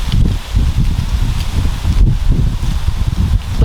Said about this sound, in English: Wait till this breeze goes by